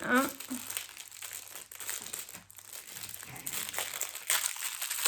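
Crinkly plastic packaging of a paint-by-numbers kit being torn and opened, giving continuous close crackling and crumpling under occasional talk.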